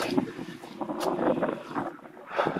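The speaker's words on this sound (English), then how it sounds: "It is very windy." Strong wind gusts roar across the exposed summit of Table Rock on a hike, buffeting the microphone in a continuous close rush that rises and falls with no one speaking.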